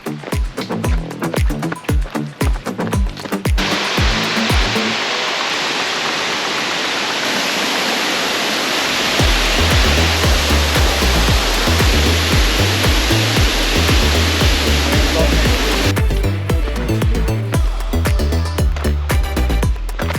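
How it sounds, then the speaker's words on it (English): A waterfall on a trail during an ultramarathon training run: a loud, steady rush of falling water that fills the middle of the clip, with thumping footsteps or handling noise before and after it. "we're about to go chasing waterfalls"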